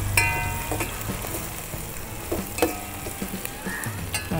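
Sheep blood fried and broken up in a pan, giving a continuous low sizzle dotted with sharp pops and crackles and occasional scraping from stirring.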